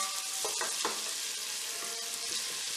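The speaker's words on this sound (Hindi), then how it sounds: "बटर मेल्ट हो गया है, इसके अंदर हम प्याज डाल देंगे और उसे सॉफ्ट कर लेंगे, यानी कि सॉटे कर लेंगे।" Chopped onions sauté in melted butter in a pan over medium-low heat, giving a steady close sizzle with a few soft stirring scrapes early on and no talking.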